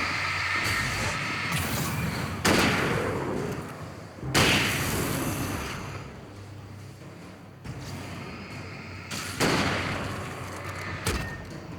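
Flashbang grenades going off in Alan Wake, several heavy thumping bursts spaced a few seconds apart over dense game noise, each blast sudden and loud before fading back.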